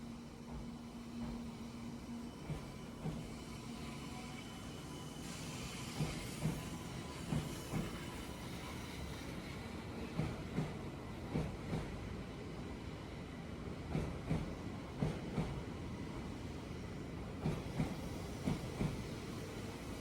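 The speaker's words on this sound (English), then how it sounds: "this train is just about to head back to Hakata, so let's watch it leave." A Shinkansen bullet train pulls out of the station bound for Hakata, a steady rolling rumble with repeated rhythmic wheel clacks over rail joints growing through the departure, moderately loud and close with no talking.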